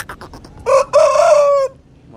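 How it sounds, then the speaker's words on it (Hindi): A black Aseel rooster gives one short, loud crow close by, starting with a brief rising note and holding a strained tone before cutting off, with a few soft clucks just before it. "बिल्कुल छोटी सी अजान है इसकी।"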